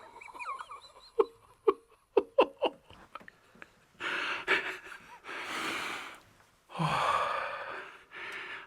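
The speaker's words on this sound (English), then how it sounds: "I was nervous because I was breathing heavy" Heavy, nervous breathing from a hunter close to the mic during a Minnesota whitetail deer hunt: a few sharp clicks and short gasps, then long, loud, rushing breaths in and out.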